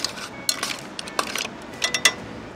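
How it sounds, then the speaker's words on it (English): A metal spoon scrapes and clinks against a pot of steamed mussels finished with lemon zest and parsley, scattered light taps and rattles of shells in a short, quiet stir, alone without talk. "Give that a quick stir."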